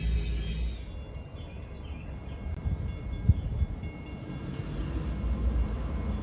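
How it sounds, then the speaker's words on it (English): A low, rumbling roar of a passing train builds and holds steady at moderate distance, with a faint high whine at the start. "Oh yeah, the good old train's coming."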